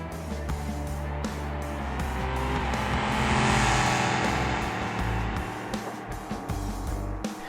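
A Gavril D-Series pickup in BeamNG makes a drag run on a 300 kW nitrous shot, its engine roaring loud and steady and rising to a peak midway, with hints of tire squeal and no talk.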